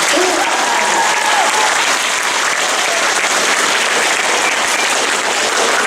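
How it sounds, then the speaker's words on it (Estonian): Dense, continuous applause fills a school assembly hall at an opening ceremony, a steady wash of many hands clapping at even loudness from start to finish. "aplaus on ta ikka ära teeninud"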